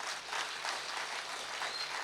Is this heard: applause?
yes